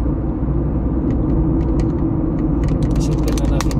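A car cruises through Dubai traffic, a loud steady low road and engine rumble heard from inside the cabin with scattered faint clicks and ticks over it.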